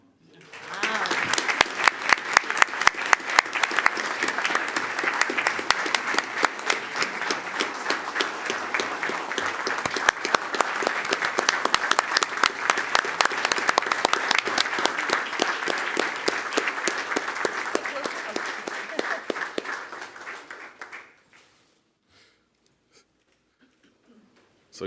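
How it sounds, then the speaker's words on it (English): Sustained applause and standing ovation from a crowd at a school board meeting, dense and even for about twenty seconds, then it cuts off into near silence. "So yes, a round of applause and a standing ovation for them."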